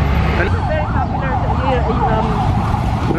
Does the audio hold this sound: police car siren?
yes